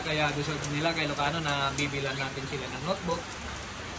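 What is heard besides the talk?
heavy rain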